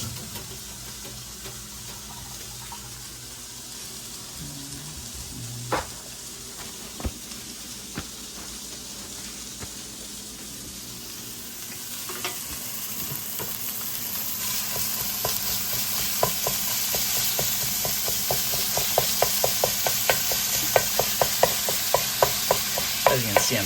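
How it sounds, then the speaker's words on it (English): Raw ground turkey sizzling in a hot pan as it is broken up and stirred, a steady frying hiss that grows brighter and louder over time with repeated scraping and tapping of the utensil against the pan. "I'm breaking up the turkey first thing"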